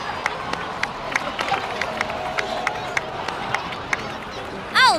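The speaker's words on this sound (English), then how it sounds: "please give another round of applause for them" A crowd in a Genshin Impact cutscene applauds and cheers, with scattered claps over a dense murmur of voices at middle distance and a brief louder swell at the end.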